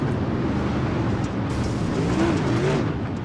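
In the iRacing video game, a pace truck and dirt super late model race cars circle under a caution at Fairbury, their engines droning steadily and loudly together with some revving.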